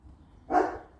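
A dog gives a single short bark at a moderate distance outdoors, standing out briefly against a quiet background.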